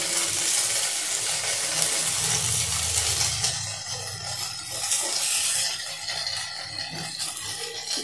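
Dal-stuffed gujia cooking in a frying pan, with soft scraping and stirring over a gentle sizzle that is fuller at first and then thins to quieter rubbing and light taps.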